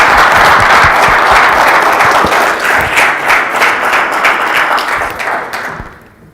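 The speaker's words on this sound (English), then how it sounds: "we should give him a round of applause" Audience applause after a talk at a technical conference, a dense sustained wash of clapping that stays loud for about five seconds and then fades out at the end.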